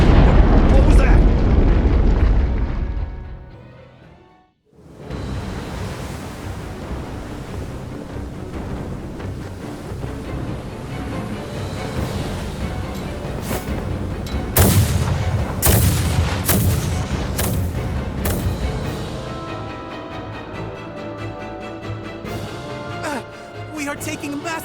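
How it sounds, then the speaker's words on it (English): Naval bombardment in the video game Star Ocean The Divine Force, a deep rumbling boom that fades out and then returns as a dense roar of explosions and cracking blasts over a continuous low drone. "We are taking massive fire from the Empire's naval battalion. Their unceasing bombardment is laying waste to our forces."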